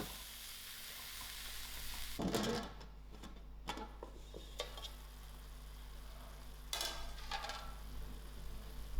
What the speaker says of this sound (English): I will give this a good mix and allow this to fry until my mushrooms are turning brown